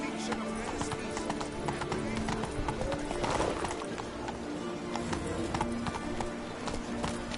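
In The Witcher 3, the horse Roach's hooves clip-clop steadily in a rhythmic trot, with occasional snorts or whinnies, over ambient game sound and a man's speech.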